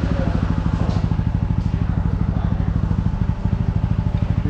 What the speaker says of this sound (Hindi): अभी से हम 10 मिनट ऑन करके आइडल रखेंगे बाइक को